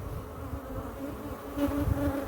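Africanized honey bees buzz at an open hive, a dense steady drone close by that swells a little louder toward the end.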